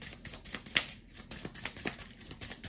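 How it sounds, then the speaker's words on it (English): A deck of cards, the discard pile, being shuffled for a solo tabletop game, quiet rapid riffling and tapping clicks at close range, no talk. "So we shuffle our discard."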